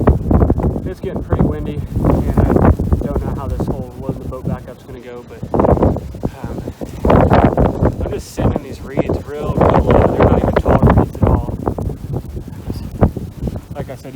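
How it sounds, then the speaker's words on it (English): Strong wind buffets an outdoor microphone during a rainy public-land duck hunt near a boat, producing loud, continuous rumbling gusts and rustling that persist throughout, with someone talking over the roar. "I don't even know if you guys can hear me because of how windy it is."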